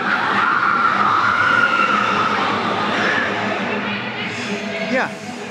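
TRON Lightcycle roller coaster at Walt Disney World launching past, a loud sustained rush and rumble with a rising whine, fading slightly toward the end, with crowd voices mixed in.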